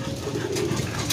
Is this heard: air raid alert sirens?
no